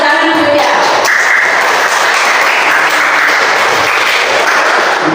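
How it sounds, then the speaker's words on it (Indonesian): Classroom full of students clapping together in sustained, dense applause, fairly loud and steady throughout, with no talk over it. "Ya, tepuk tangan dulu ya."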